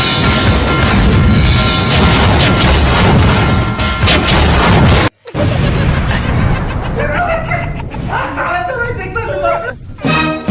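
Diwali firecrackers bursting in a loud, dense run of crackling bangs and crashes that stop briefly midway and then resume, with people's voices and laughter mixed in.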